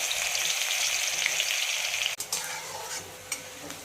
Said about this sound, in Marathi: त्यामध्ये थोडेसे तेल, तेलामध्ये जिरे, कांदा टाकूया।